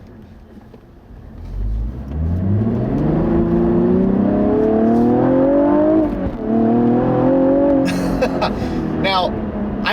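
A 2016 Cadillac ATS-V with a six-speed manual accelerates hard, its engine note climbing steadily through the revs and shifting without lifting the throttle, loud and close, with someone talking briefly at the start.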